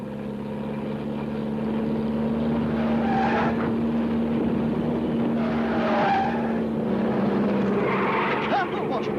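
Old motor car being driven with a steady engine drone, overlaid by several rising tyre-skid squeals, close and fairly loud.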